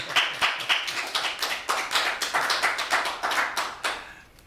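Small audience at a city council meeting clapping after a unanimous vote, a modest steady patter of hands from fairly close that lasts a few seconds and then fades.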